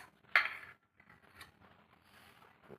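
Rice is served onto a plate in a home kitchen: one sharp, close clink of a serving spoon against the plate, then faint soft scraping and light dish sounds in a quiet room.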